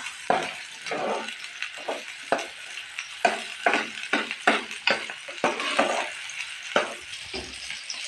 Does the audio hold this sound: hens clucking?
no